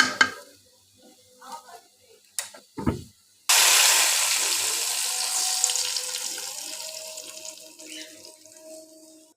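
A spice tempering fried in hot oil is poured over pumpkin and Malabar spinach. A few light clinks and knocks come first, then a sudden loud hiss that slowly dies away over several seconds.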